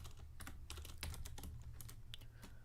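Fast typing on a computer keyboard while writing code, a quick irregular run of close, crisp key clicks without any talk.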